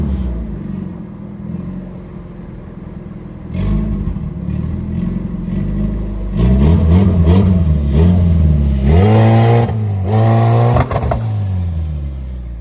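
A car engine cranks and catches, then idles and is revved several times with rising and falling pitch, loud and close, with no talk over it.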